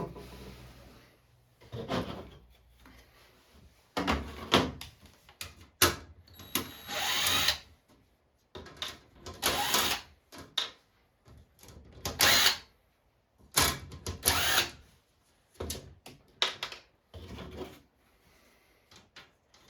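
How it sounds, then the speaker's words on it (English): Power drill driving screws to fit mounting plates onto a Journey arcade cabinet under restoration, heard as a series of short, loud whirring bursts with brief pauses between them, close by and with no talking. "Okay, let's try to start screwing these on here."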